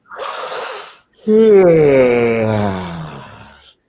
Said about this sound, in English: Let's just take a big yawn together.